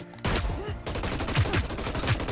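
Rapid automatic gunfire rattles in Hyper Scape, a dense, continuous burst of close shots with punchy low thumps while the player jump strafes.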